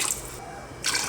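Water poured glass by glass into a cooking pot for mutton yakhni pulao, a steady splashing pour with a brief quieter gap before the flow resumes, close and fairly loud.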